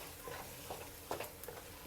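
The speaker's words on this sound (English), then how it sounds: "Give this a good mix first." Soy sauce and brown sugar stirred together, a soft continuous swishing with a few light scrapes and clicks, close but quiet against a steady background hiss.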